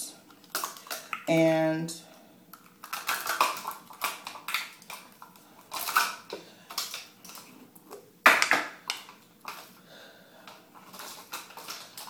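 Small measuring spoons clink and rattle as they are handled, giving a series of light metallic clatters and taps, some sharp and close, with a person talking in between.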